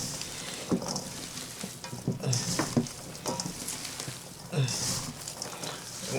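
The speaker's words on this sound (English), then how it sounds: "We're going to mix all this up by hand." Hands knead and squish a raw sausage mixture for BBQ shotgun shells, giving soft, irregular wet squelches and slaps at close range with no talking.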